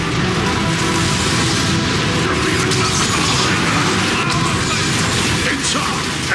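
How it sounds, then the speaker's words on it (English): Artillery shells exploding in a city plaza during Transformers: Fall of Cybertron combat, shelled by a warp cannon: a dense, loud, continuous roar of blasts and rumbling debris with game voices over it. "They're shelling the plaza!"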